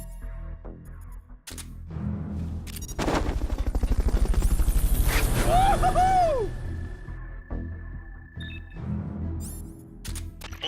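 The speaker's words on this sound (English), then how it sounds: "Fulton recovery helicopter is complete." A video game helicopter arrives for a Fulton recovery of a subject: rapid rotor chopping swells over a few seconds and then fades, with sparse electronic tones around it.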